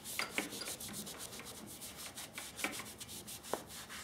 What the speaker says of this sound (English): go ahead and hit this with the magic eraser